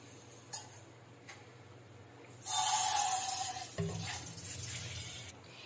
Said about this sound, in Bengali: দেখো আমার এখানে হাঁড়িতে ভাত ফুটছে, চালটা ফুটছে